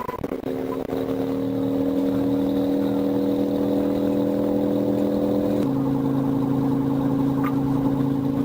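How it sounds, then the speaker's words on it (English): A motorcycle engine holds a loud, steady high-revving drone that shifts pitch partway through as it keeps accelerating at full throttle, close and continuous without speech. "The rider did not stop and once again accelerated to full throttle"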